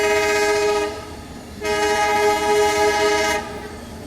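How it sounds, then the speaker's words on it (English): A diesel-hauled Tuticorin Mysuru Express train sounds its horn in two long, loud blasts, steady and close, over the rumble of the passing train. "So here is the Mysuru bound 16235 Tuticorin Mysuru Express."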